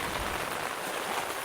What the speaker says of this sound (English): Sun's out and it's raining.